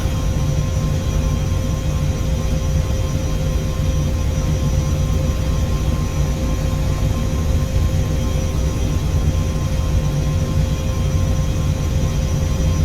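A steady, dense H160 helicopter engine drone in a flight simulator video game, with a broad rumbling roar, holds unchanged throughout, loud and constant with no voices.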